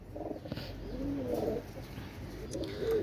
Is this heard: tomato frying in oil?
no